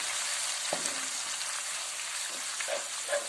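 Jaggery softened in vinegar cooks in a pan with fried ginger and garlic, giving a steady close sizzle with a few soft clicks of a stirring spoon; no talking.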